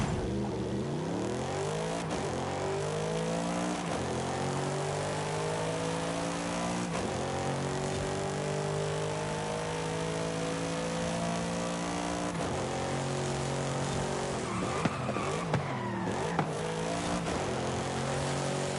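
A car in the video game Forza Horizon 5 accelerates and corners with a continuous engine drone. The pitch climbs repeatedly through gear changes, as in a race, and runs throughout at moderate loudness.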